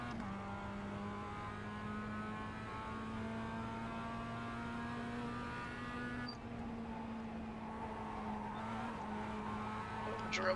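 A Mazda MX-5 race car in the iRacing simulator holds a steady, buzzing engine drone at constant pitch, quiet and continuous with faint tire noise.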